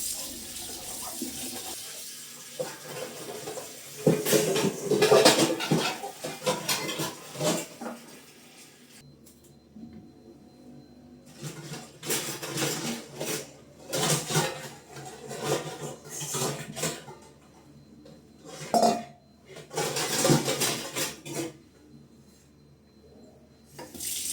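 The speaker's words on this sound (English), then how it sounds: "everything has to be washed and put away immediately" Running tap water and dishes being rinsed at a home kitchen sink, with occasional clinks of plates and pots as they are washed and put away, in irregular bursts separated by quieter pauses.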